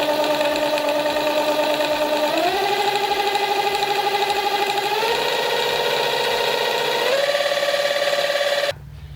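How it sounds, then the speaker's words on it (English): Electric bike motor with a nylon gear and no drivetrain, running alone and loud, a whining hum that steps up in pitch several times over a rapid mechanical ticking, then cuts off abruptly near the end. "still nylon gear, no drivetrain, just motor"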